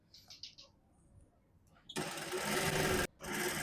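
A sewing machine stitching the edge of a suit, running in a loud close whir for about a second, pausing briefly, then starting again, after soft handling noises.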